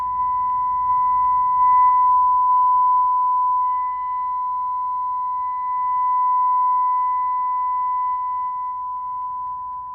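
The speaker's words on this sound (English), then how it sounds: "We're doing a 1000 hertz tone." A steady 1000 Hz test tone played through a bridged Rockford M5 800.4 motorcycle amplifier: a pure, unbroken sine whine holding at even loudness for the full ten seconds, alone with no voices.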